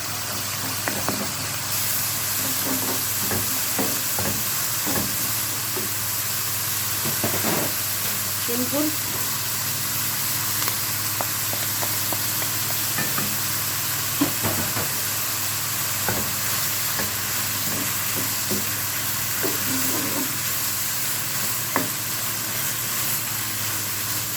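Liver sizzles steadily in a pan as garlic is added, a constant frying hiss dotted with small crackles and scraping stirs, with a person talking over it.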